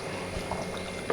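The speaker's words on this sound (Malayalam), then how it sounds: "ഞാൻ ഇതിനകത്തോട്ട് ഒരു 1/4 കപ്പ് വെള്ളം ഒഴിച്ച് കൊടുക്കുകയാണ്" Water is poured into crab curry in a hot pan, giving a brief bubbling, sizzling splash of liquid meeting the gravy, close and steady for about a second.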